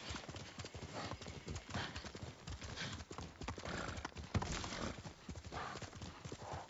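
Horse galloping in the video game Ghost of Tsushima, a rapid rhythmic clip-clop of hooves with a neigh, fairly quiet and continuous.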